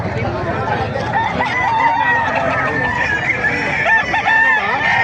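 Many roosters crow loudly and continuously with clucking fowl at a busy chicken market in Bocaue, Bulacan, overlapping calls over a background of crowd chatter and voices.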